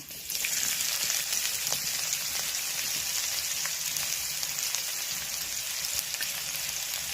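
Dried red chillies, cinnamon, cardamom, cloves and onion sizzle steadily in hot oil for a mutton-fat chickpea ghugni, a dense, continuous frying hiss with faint crackles and no voices.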